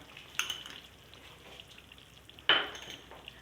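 Chicken keema and potatoes sizzling in a pan as yogurt is added, a soft steady frying hiss with two sharper splashy bursts and faint utensil clinks, quiet and close, no talking.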